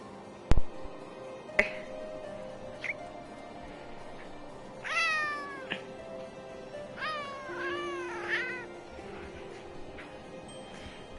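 A cat gives several loud, close, drawn-out meows and yowls, rising and falling in pitch, with a few sharp clicks or snaps between the calls and a steady background hum.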